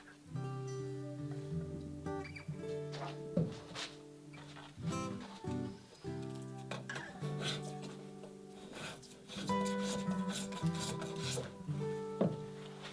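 A hand tool takes a few shaving strokes off a wooden breasthook being fitted into a Catalina Wherry boat, giving close, irregular rasping rubs with short pauses between the strokes.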